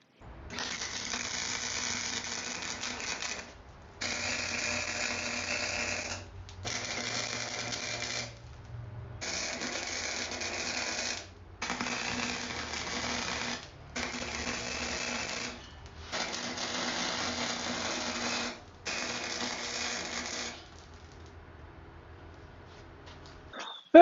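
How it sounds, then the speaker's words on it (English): Arc welding flat bar pieces together for a propane forge stand: a steady crackling buzz in eight bursts of roughly two to three seconds each, separated by short pauses, close and fairly loud. "Let's go ahead and weld that together."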